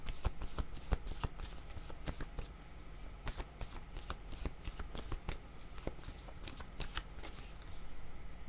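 A deck of cards being shuffled by hand for a card reading, heard as a steady rustling flutter with crisp riffle snaps scattered throughout, close and moderately quiet, with no voice over it.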